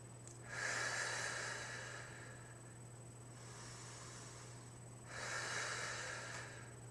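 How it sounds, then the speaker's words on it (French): Slow deep belly breaths during a morning energy exercise, two long airy inhales or exhales several seconds apart, soft and close over a faint steady hum. "vous respirez profondément pendant que vous faites ce mouvement"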